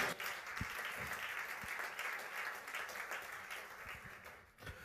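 Church congregation applauding steadily, a dense continuous wash of clapping from many hands, fairly distant and even, dipping briefly near the end.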